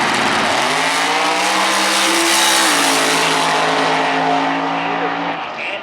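A drag race car at a raceway launches hard, its engine roaring loud and near as the pitch climbs steadily through a gear change, over a crowd and track background, with a commentator talking over it.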